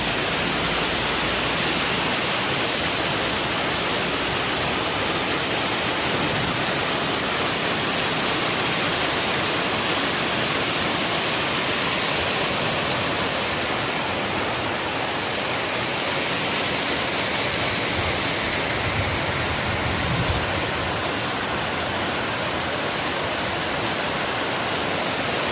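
Steady heavy rain in Baguio City, Philippines, a continuous dense broadband hiss that holds evenly throughout, with no voices heard.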